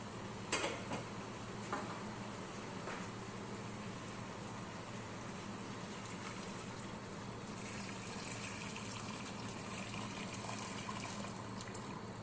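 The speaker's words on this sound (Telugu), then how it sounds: "చికెన్ ఉడకేదానికి వాటర్ వేసేసుకున్నాం" Water poured into a pot of fried chicken and stirred, a continuous watery rush and bubbling with a few clinks of a spoon against the pot at the start, close and steady throughout.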